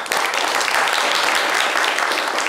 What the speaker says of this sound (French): Applaudissements pour Do aussi.